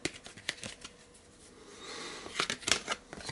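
A deck of tarot cards is cut and shuffled by hand, giving soft riffling flicks and papery slaps in brief bursts, fairly close and with no talk.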